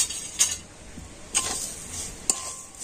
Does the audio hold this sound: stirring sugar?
yes